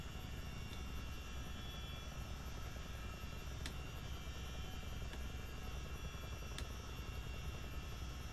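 Simulated CH-47 Chinook tandem-rotor helicopter setting down on a taxiway in Microsoft Flight Simulator, a continuous dense engine and rotor roar at steady loudness with a few faint clicks over it.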